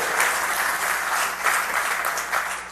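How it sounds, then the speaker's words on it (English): Conference audience at a SXSW startup talk breaks into applause, many people clapping steadily and fairly loudly from start to finish, a dense even patter with no speech over it. "Can I get a round of applause?"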